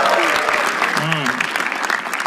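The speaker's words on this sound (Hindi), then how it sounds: "इनके लिए तालियां प्लीज।" Comedy show crowd applauding as comedian Aakash Mehta is introduced, a loud, continuous spread of clapping with a voice briefly heard over it.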